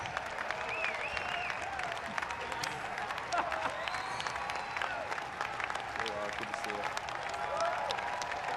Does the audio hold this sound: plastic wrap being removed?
no